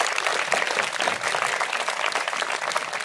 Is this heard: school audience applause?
yes